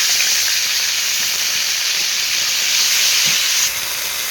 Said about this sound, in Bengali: পুঁই শাকের ফল সামান্য ভেজে উঠিয়ে নেব।